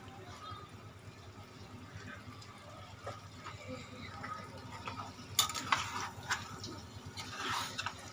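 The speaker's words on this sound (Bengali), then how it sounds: "ডিম দেওয়ার পরে তারপরে ভালো করে কষে নিয়ে একটু লাল লাল মতন হয়ে যাবে" Egg stir-fried in a pan, faint low sizzling with soft stirring and a few sharper scraping clatters toward the end, quiet and close.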